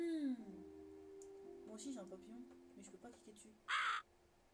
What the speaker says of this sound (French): J'ai un corbeau.